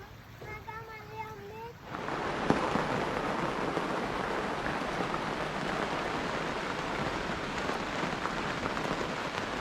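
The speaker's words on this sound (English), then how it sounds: "Now it's already raining hard" On a boat, after a few faint tonal chirps, heavy tropical-storm rain starts pouring and keeps up a dense, steady drumming with occasional louder spatters.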